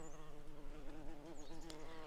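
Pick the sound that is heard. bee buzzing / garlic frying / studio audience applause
bee buzzing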